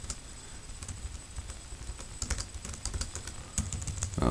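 A computer keyboard clicks in quick, uneven bursts of keystrokes, close and fairly quiet, with no talking.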